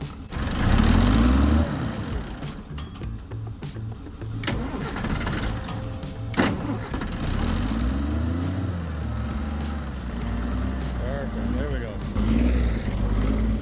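A cold engine turned over on a boost pack, cranking and catching, then revved hard and unevenly with the revs rising and falling throughout, loud and close, with people talking over it.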